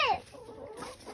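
A chicken gives a short, rising cluck outdoors in a backyard garden, a single near call followed by faint low ambience.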